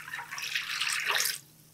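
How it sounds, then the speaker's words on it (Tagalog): Two cups of water poured into a pan while cooking kamote balls, a steady splashing, gurgling pour lasting over a second before it stops, close and fairly loud, no talking. "2 tasang tubig."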